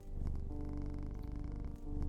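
A cat purrs close and steady, a deep rhythmic rumble that runs continuously with a brief dip near the end.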